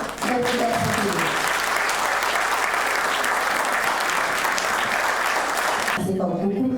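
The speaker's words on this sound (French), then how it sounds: "je vais vous demander d'applaudir très très fort notre nouvelle centenaire" An audience claps loudly for a woman who has just turned one hundred, a dense, sustained burst of applause that fills the room and then stops abruptly near the end.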